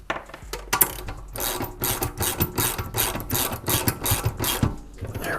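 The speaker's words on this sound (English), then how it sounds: "I'll go grab a socket wrench for it" A socket wrench ratchets on a 3/4 bolt of an off-road 3-ton jack, giving bursts of rapid, close mechanical clicking with short pauses between strokes.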